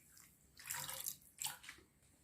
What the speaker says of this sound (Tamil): சுகர் கூட ஒரு 1/4 கப் அளவுக்கு தண்ணி ஊற்றிக்கோங்க.